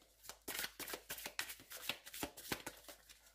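A deck of oracle cards is shuffled close by, giving a steady run of crisp riffling flutters and soft slaps with no voices.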